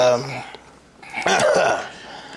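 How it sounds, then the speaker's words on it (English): A short voiced sound opens, then after a pause a rough burst of coughing, harsh and close, without any words. "That's why I'm coughing."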